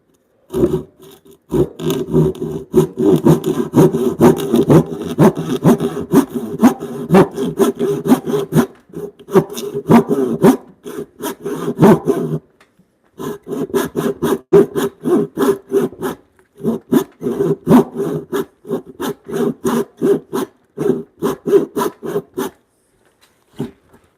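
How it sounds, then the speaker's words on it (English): A hand saw cross-cuts timber for a mortise and tenon joint in a timber-framed bunk bed build. Close, rhythmic rasping strokes come in long runs, broken by a few brief pauses. "we might try to cross cut"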